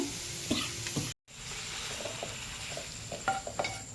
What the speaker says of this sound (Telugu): ఇది ఫ్రెండ్స్ టమోటాలు ఈ నూనెలో మగ్గ పెట్టుకోవాలి